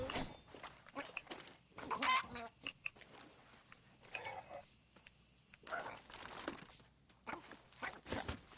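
Game rooster in Far Cry 6 clucking and squawking in scattered bursts amid combat noise and rustling, with speech-like sounds mixed in at times.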